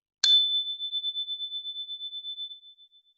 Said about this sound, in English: at the sound of the chime